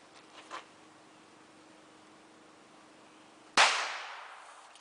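A revolver fires at an e-cig battery, a single sharp, loud gunshot with a ringing decay, preceded by faint clicks and quiet background.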